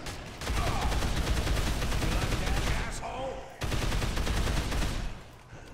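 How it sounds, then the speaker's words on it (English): Rapid automatic gunfire bursts loudly and continuously in the Dead Island Riptide finale, broken by a brief pause before the shooting resumes, with faint voices beneath. "I'm gonna have to shoot this chick in her face."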